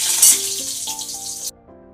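Spice paste hits hot oil in a pan and sizzles in a bright hiss for about a second and a half, then cuts out, leaving soft background music.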